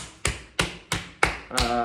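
A potter's hands clap a 50 lb wedged ball of clay on a potter's wheel, giving five sharp, close slaps at a steady rhythm with no talk.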